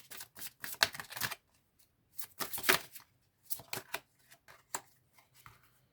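Oracle cards from a light-artisans deck are riffled and shuffled by hand in several quick, crisp bursts separated by short pauses, close and alone with no talking.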